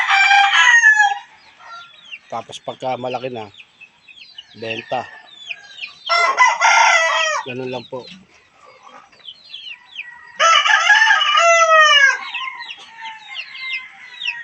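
Chickens cluck close by while a rooster crows loudly several times, with someone talking briefly between the calls.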